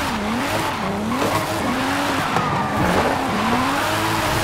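A Volvo 240 Turbo drifts in Forza Motorsport 5, its tyres squealing in long, wavering howls over a steady, loud engine drone, continuous and close throughout.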